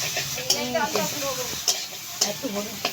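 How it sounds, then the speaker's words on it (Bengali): Boiled taro stems tipped into a hot pan and stirred for a vegetarian taro-leaf ghonto, giving a soft sizzle with several sharp spatula scrapes and clicks against the pan, close and fairly loud. "এবারে আমরা কচু ডাঁটা সেদ্ধটা দিয়ে দিচ্ছি"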